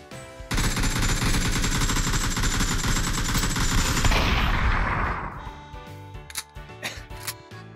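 Rapid automatic gunfire in a video game during a Fourth of July style celebration, a dense loud burst lasting about four seconds, then fading into scattered clicks and softer shots.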